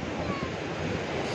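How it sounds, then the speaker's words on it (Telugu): The Krishna river at Vijayawada rushes with a steady, dense, surf-like roar that stays even and unbroken through a short stretch. "కృష్ణానది పరవళ్ళు"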